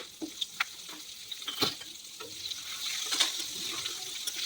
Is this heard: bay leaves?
yes